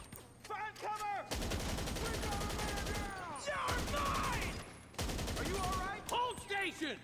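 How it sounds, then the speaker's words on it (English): Sustained bursts of automatic gunfire from an emptied magazine ring out in GTA 5 Online, with rapid shots in several long runs separated by short pauses, while voices speak and shout between and over them. "Mag dump."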